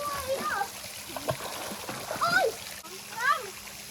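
Children splash in cool water at a rural garden home, with intermittent splashes and trickling under frequent high-pitched kids' voices and chatter.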